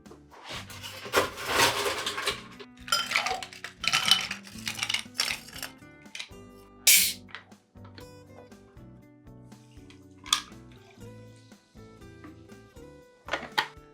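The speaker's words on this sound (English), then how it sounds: "And now we're going to go ahead and ice it off and then top it with sparkling water." Ice goes into a Tom Collins glass with scattered rattling clinks and rubbing, some sharp knocks standing out, over quiet music.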